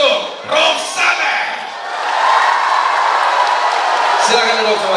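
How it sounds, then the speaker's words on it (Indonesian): An audience at a university student orientation event claps and cheers for Roxana, with a voice at the start before a broad, sustained wash of crowd noise builds and holds. "kita kasih tepuk tangan yang meriah untuk Roxana"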